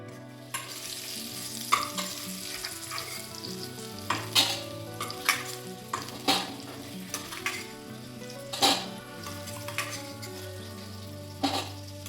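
Onions and potatoes sizzle in hot oil with whole garam masala, steady frying hiss broken by frequent sharp scrapes and clinks of a spatula stirring against the pan, close and without talk.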